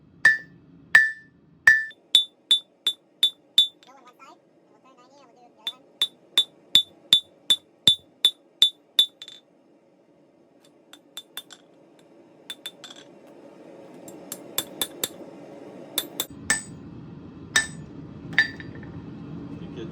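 Hammer forging a 1/4 inch round punch on an anvil, sharp ringing metallic blows in quick rhythmic runs separated by pauses, close and clear, with a faint rushing background rising toward the end.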